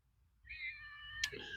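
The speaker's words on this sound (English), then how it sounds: "you'll hear my kitty cat in the background" A pet cat lets out a single drawn-out meow indoors in a hot house, followed by a short sharp click and a softer trailing sound, close and clear with no talking.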